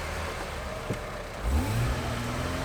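A 4x4 drives off-road on the Wheeny Creek trail in Australia while being winched. A steady engine drone swells into a louder rev partway through, then holds at a firm, rumbling pitch. No one speaks.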